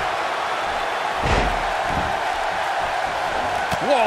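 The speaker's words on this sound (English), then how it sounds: "She slams her back down." A heavy body slam thuds once inside a WWE 2K18 wrestling match during an NXT women's championship bout, a dull impact over a constant crowd roar, with a commentator voice faintly audible.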